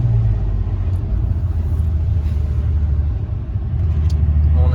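A VW Passat R36 with a stainless valved exhaust drones with a deep, steady rumble from inside the cabin, a continuous loud low growl with slight swells in engine load.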